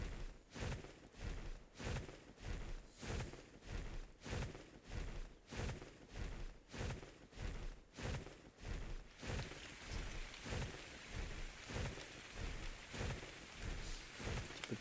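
Rain falling in the video game ARK: The Island, a steady patter laid over a regular rhythmic pulsing that persists throughout, fairly quiet and with no talk.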